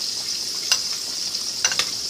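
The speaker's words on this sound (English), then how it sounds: "I'm just going to stir these carrots around." Carrots fry in butter in a pan with a steady close sizzle, broken by a few scraping clicks as a utensil stirs them around, with no voices.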